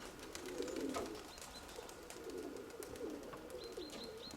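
A pigeon coos softly in low repeated phrases, faint against a quiet background with a few small chirps.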